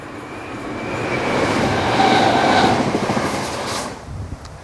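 A train on the Aire Valley Railway line passes by outdoors, its broad rumble and rail noise swelling to a peak over a few seconds and then fading, with no voices.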